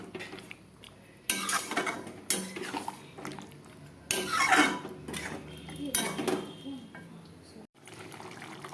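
Mutton kosha being stirred in a cooking pot with added water, a spoon scraping and clattering against the metal in repeated bursts, close and fairly loud, with no talking.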